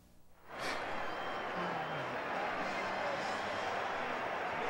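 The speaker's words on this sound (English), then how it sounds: "The crowd has started to depart now" A large stadium crowd at a 1979 NFL football game between the New York Giants and New Orleans Saints, a broad steady roar that swells in after a brief quiet and holds as fans begin to leave, distant and diffuse.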